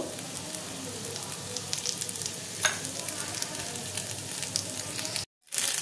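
Pasta with a little salt sizzling in a frying pan while being stirred, a steady close crackle and hiss with occasional scraping strokes, then a brief cut to silence near the end.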